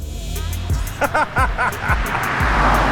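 A 2024 BMW i5 M60 xDrive electric sedan accelerates with a synthetic, futuristic tone rising and warbling in pitch over road noise, loud and close.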